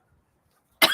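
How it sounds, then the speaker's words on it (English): A single harsh cough bursts out near the end of a near-silent second, close to the microphone and loud, with a slight throat-clearing rasp. "I still have the cough."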